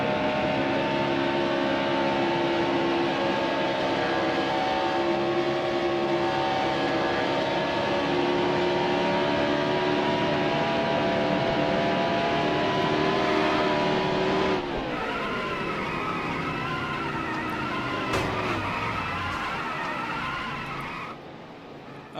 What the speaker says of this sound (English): I also will spin the car so you can hear the god-awful tire squealing sounds